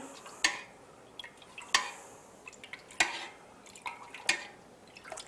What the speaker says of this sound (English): we're going to go ahead and give it a stir in. We're going to use that up and down motion